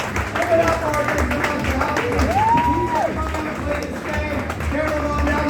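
Audience applause continues for a young winner after a stage game, broad steady clapping with crowd murmur and a brief whistle-like tone drifting over it.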